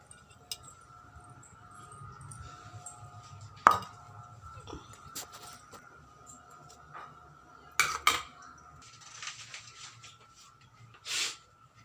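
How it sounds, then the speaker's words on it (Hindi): Dirty household utensils being scrubbed and washed, with sporadic clinks and clatters of metal dishes over a low steady background hum, a few sharper knocks standing out; no speech. "ये दे बर्तन अभी गंदा हो गए, तेला मांज लेता हूँ"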